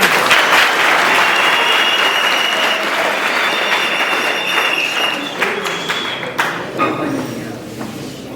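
Congregation at a Quaker yearly meeting clapping to welcome an arriving elder, a loud dense wash of applause that gradually thins into scattered claps, with voices mixed in beneath.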